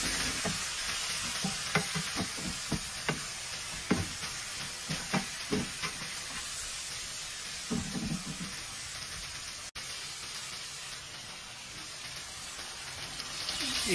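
Pork ribs stirred in a pot, with a sputtering sizzle underneath and a run of soft, irregular scraping knocks in the first half that thins out later. A steady close-up cooking hiss runs throughout, with no talking.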